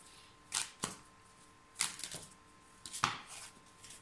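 Tarot cards being shuffled by hand in a short reading session, with three separate riffling bursts spaced about a second apart, close and fairly quiet, with no talking.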